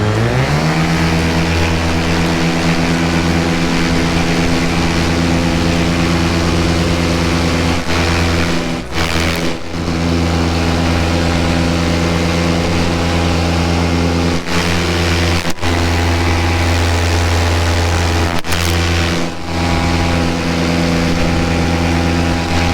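A paramotor engine runs loud and steady close by, its drone broken by a few brief dips and stutters as it loses power mid-flight.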